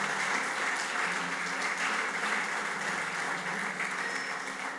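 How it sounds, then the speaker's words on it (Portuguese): Steady congregation applause inside a church during a worship service, a continuous even patter of many hands lasting about five seconds, with no talking. "Você pode dar uma salva de palmas para Jesus?"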